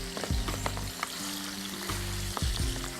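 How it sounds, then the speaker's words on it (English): Elk meat sizzles and fries steadily in a pan, a close, continuous crackling hiss with a few soft clinks of stirring. "I live for that sizzle"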